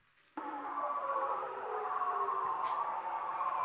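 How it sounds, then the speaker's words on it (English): A bearded seal's mating call sounds as one long, continuous eerie wavering whistle with slowly gliding tones, starting suddenly and holding steady, fairly loud, with no voices over it. "that was the mating call of the bearded seal"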